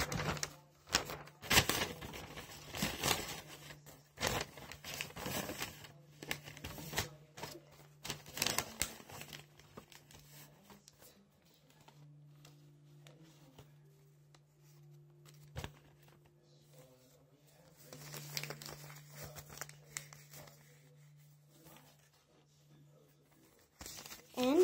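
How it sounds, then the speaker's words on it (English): Paper being folded for a small M&M's mini notebook, close crisp creasing, crinkling and tapping in irregular bursts with quieter stretches and a faint steady hum beneath. "I start folding."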